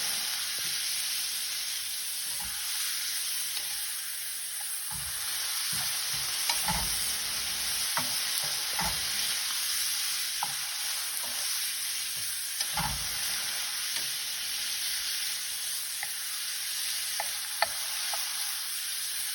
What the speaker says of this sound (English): we want to saute the shrimp until they're